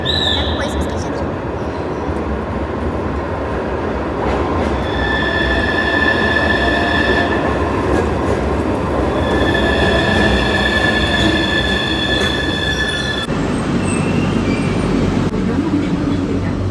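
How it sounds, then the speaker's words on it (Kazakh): An Almaty metro train pulls into an underground station with a steady loud rumble and sustained high wheel squeal in long tones, near and continuous, with a voice speaking briefly. "Пойызымыз келе жатыр."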